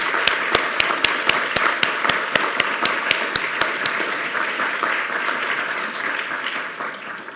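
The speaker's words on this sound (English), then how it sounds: "a round of applause for a wonderful..." Audience applause at a lecture hall event, with sharp distinct claps early on that blend into a sustained round of clapping before fading at the end; no talking over it.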